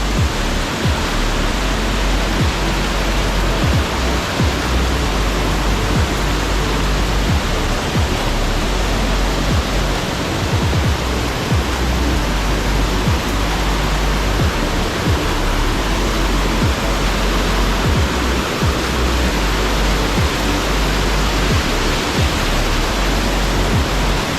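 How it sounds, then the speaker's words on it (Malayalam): The Thonippara waterfall roars in a loud, dense, unbroken wash of falling water, heard from close in front of it with no voices. "ഈ വെള്ളച്ചാട്ടത്തിൻ്റെ ഫ്രണ്ടിലാണ് യഥാർത്ഥ സെൻറ്ററിൽ നിൽക്കുകയാണ് ഞാൻ."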